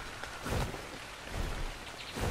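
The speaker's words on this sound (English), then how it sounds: "Oh, come on, rain." Steady rain in the video game ARK: Survival Evolved, a dense hiss of falling drops with rumbling low swells that rise and fall, continuous and fairly loud with no voices.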